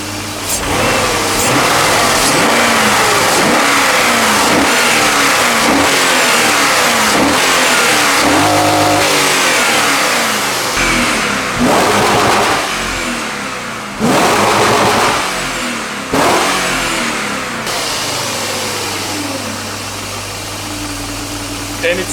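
A warmed-up BMW E39 540i V8 revs loudly and repeatedly, rising and falling in a string of throttle blips close up, settling back to idle between bursts and at the end.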